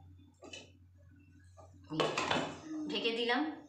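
A metal lid clatters down onto a pot of greens stems and masoor lentils: soft handling noises first, then a sudden loud metallic clang and ringing rattle, with faint talk in the background.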